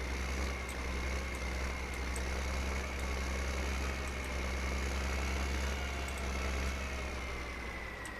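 A large old tractor engine from the Farming Simulator 15 video game idles steadily, a continuous low rumble with a faint whine above it, holding an even loudness for the whole stretch with no talk.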